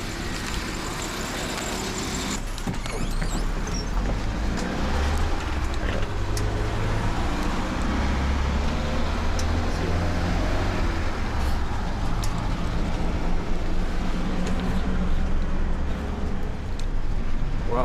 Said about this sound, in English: Just got on one of these little buses just to see if it takes us directly there.